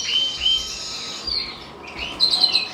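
Canaries in an indoor birdroom give a few high, thin chirps and short trills, fairly close and clear, with quiet gaps between calls and no talking.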